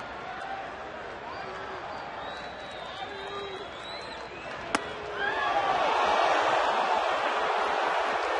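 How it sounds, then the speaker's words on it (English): Dodger fans at a Los Angeles–San Diego ballgame let out a rising, collective groan as a 96-mph fastball just misses inside. The murmur swells after a sharp crack, under an announcer's voice. "Crowd groaning a 96-mile-an-hour fastball that just missed inside. The groans from the Dodger fans"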